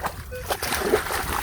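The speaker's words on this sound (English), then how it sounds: "he just jumped right in the water" A person jumps into water outdoors along an old voyageur canoe route, producing a close splash and sloshing with a dog and other voices audible around it.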